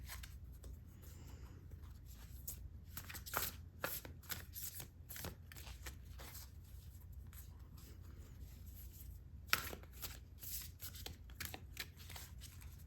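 Large oracle cards being handled and riffled, a string of close, crisp paper flicks and slaps in uneven bursts against a quiet room, no speech.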